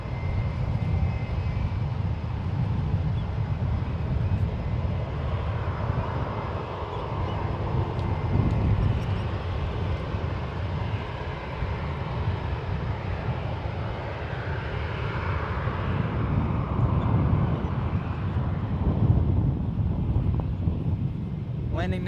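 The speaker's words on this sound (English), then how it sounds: "Landing now at Skywest 3494, coming in from Santa Ana, John Wayne. This is Embraer 175." A SkyWest Embraer 175 airliner lands at San Francisco International Airport, its jet engines producing a steady, distant broadband roar that swells gently and mixes with wind buffeting the microphone.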